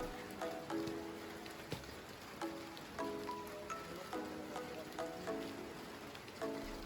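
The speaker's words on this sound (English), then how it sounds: "It rained. In the rainforest." Rain falls steadily on a rainforest during an evening boat ride, a soft continuous patter broken by scattered drips and light knocks, heard faint and close, with no voices.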